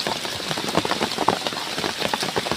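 Heavy rain pours down in a dense, constant patter, drops drumming hard on a nearby banana-leaf cover with no one speaking.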